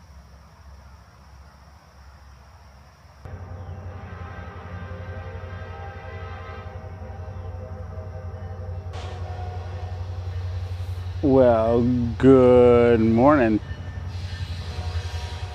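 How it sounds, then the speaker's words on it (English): Train passing near a riverside hammock campsite: a steady low rumble builds, then loud wavering horn blasts sound close by. A voice speaks briefly over the rumble. "There's our train alarm."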